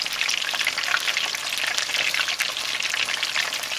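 Ground beef tacos dorados sizzle and crackle in hot oil in a fryer, a dense steady frying hiss dotted with small pops, close up and alone.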